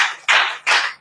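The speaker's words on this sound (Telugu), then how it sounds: "కొట్టు చప్పట్లు గట్టిగా." An audience clapping hands loudly: two strong bursts of applause, each sharp at the start and then trailing off, close by and clear with no voices over them.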